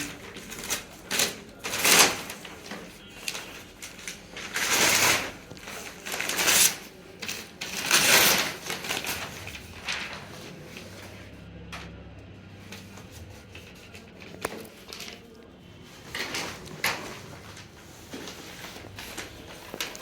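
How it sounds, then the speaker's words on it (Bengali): Crinkly rustling and rough handling bursts come up close as a parcel of wall calendars is unpacked, with paper or plastic wrapping crackling in uneven clusters and quieter gaps between. "আমরা এখন সেগুলো আনপ্যাক করছি"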